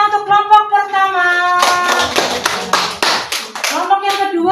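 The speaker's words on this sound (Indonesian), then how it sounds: "Betul, tepuk tangan untuk kelompok pertama" A classroom of students claps for the first group after a discussion, a burst of quick clapping sandwiched between stretches of a teacher speaking, fairly close and loud.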